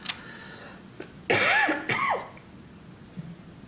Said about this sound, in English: I'm sorry, I'm going to start coughing.